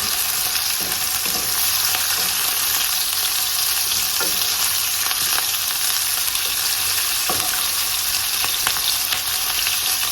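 Meat browning in a pan, a loud, continuous sizzle and crackle with a few faint scrapes of stirring and no voices.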